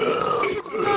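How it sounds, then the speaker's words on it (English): A single long, gravelly burp rumbles out close and loud in VRChat, lasting about a second with a brief dip partway through. "Why are you burping?"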